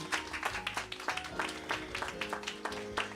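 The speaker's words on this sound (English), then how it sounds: "Another round of applause for all the children of Shiloh" Following a spring program at Shiloh, the audience claps for the children's choir, quick scattered hand claps in a lively patter with a few voices mixed in.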